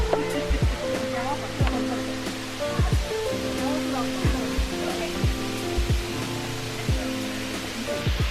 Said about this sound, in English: Anyways, more of the waterfall.